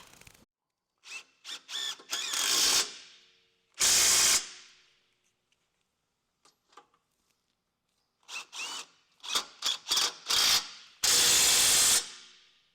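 Impact gun tightening flange nuts on a third-generation Toyota Tacoma crossmember, heard as several loud, close bursts of rattling buzz separated by quiet gaps, with two long final bursts near the end.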